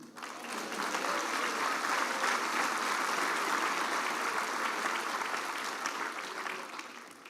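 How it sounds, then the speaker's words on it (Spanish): A church congregation breaks into loud, sustained applause, with dense crowd clapping that holds steady for several seconds before easing off at the end. "¿Cuánto da un aplauso al Señor?"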